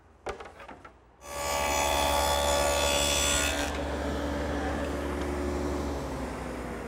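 A power tool cutting a quarter-inch groove in wooden drawer parts for a plywood bottom, with a few clicks first, then a loud steady whine starting about a second in and easing slightly, alone with no talk.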